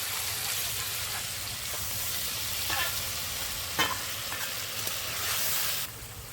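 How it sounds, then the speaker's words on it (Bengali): Ground mustard, poppy seed and green chili paste sizzles and spatters in hot oil in a pan while it is stirred, a steady frying crackle with occasional sharper pops and scrapes. "এবার বেটে রাখা মশলা, এই সর্ষে, পোস্ত আর কাঁচা লঙ্কা দিয়ে দেবো"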